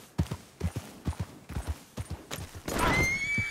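Horse hooves clip-clop in a quick irregular rhythm on the ground in Red Dead Redemption 2, close and clear, before a loud whinny rises near the end.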